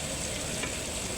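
Chopped onion pieces frying in a pan, continuous crackling sizzle with one faint stir scrape midway, close and fairly quiet.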